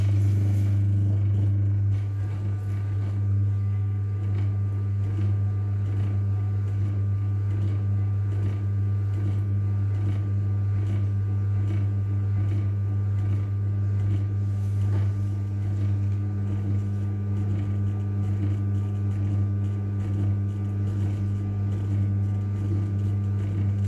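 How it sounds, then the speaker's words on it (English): An electric pottery wheel spins steadily while throwing a clay mixing bowl, a constant low motor hum with a faint whir, unbroken and close for the whole stretch. "So I'll turn the wheel on again now"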